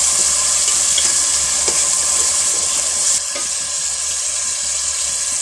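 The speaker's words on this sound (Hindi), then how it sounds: "और अच्छी तरह मसाला भून लेते हैं।" Steady, loud sizzling and crackling of spice paste frying in a hot pan, a broad hiss that continues without pause, with a slight drop midway.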